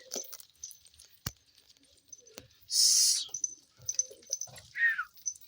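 Hungry pigeons in a loft: scattered soft calls and chirps, a short burst of rustling, flapping-like noise midway, then a brief high cry near the end, all fairly close with quiet gaps between.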